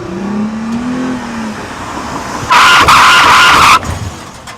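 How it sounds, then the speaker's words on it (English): A car brakes hard just before hitting a speed bump: a loud broadband tyre screech bursts in about halfway through and lasts over a second before cutting off, with engine hum underneath and no talk. "I'm gonna slam the brakes right before hitting a speed bump"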